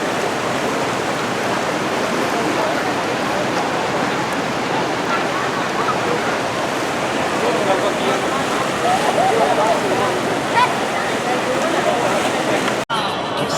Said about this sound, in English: Directly next to that is Fury of the Nile. This is a water rapids ride.